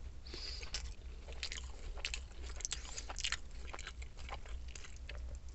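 Crispy fried fish from a fish and chips meal is bitten and chewed up close. Faint, irregular crunches repeat over a low background hum.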